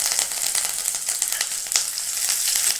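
Bay leaves, dried red chilies, chopped ginger and green chili sizzle and crackle steadily in hot oil in a pan, a dense, continuous frying hiss that stays loud and close throughout with no voices.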